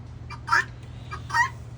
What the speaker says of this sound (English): Yes, yes, my little guineas.